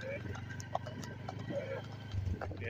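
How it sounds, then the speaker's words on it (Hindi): Hooves of a mare clip-clopping in a steady rhythm as she is ridden in a village, fairly close, with people talking over the hoofbeats. "इतनी बढ़िया घोड़ी है जी"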